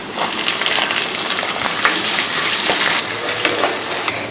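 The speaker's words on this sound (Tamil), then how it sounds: "இப்போ பூண்டு வந்து சவுந்து வர ஆரம்பிச்சிச்சு இப்போ வந்து வெங்காயம் சேர்த்துக்கலாம்" Garlic and onion frying in a pan, a dense, steady crackling sizzle with sharp pops scattered throughout, close and continuous with no voices.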